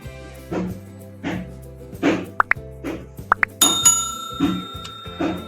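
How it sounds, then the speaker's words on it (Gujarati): Tomato puree going into a potato curry and being stirred in a pan, with a few soft wet plops and sharp clinks of a spoon against the pot, close and fairly loud in a home kitchen. "પછી તેમાં આપણે ટમેટાની પ્યુરી એડ કરવાની છે બરાબર મિક્સ કરી લેવાનું છે"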